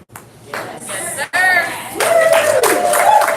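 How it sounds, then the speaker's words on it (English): A crowd at an elementary school bursts into clapping, a dense patter of many hands that swells and continues, with a voice and other voices mixed in. "Round of applause."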